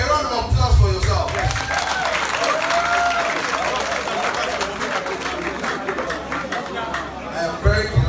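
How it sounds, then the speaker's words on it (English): Crowd applause at an International Youth Day event in Nigeria, steady clapping and cheering from a large audience throughout, with voices mixed in. "Please, a round of applause for yourself."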